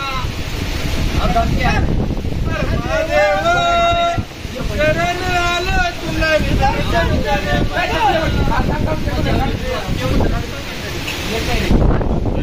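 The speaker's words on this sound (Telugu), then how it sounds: "గాలి" Steady wind roars and buffets the microphone throughout, with people talking over it and rain in the background, on a trek at Harishchandragad, Maharashtra.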